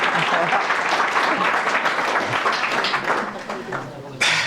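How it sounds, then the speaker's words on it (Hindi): Applause from a crowd at a government college event, a dense steady patter of many hands clapping together, fading slightly toward the end. "आपके प्राचार्य सर का स्वागत एक बार जोरदार तालियों से कर दीजिए"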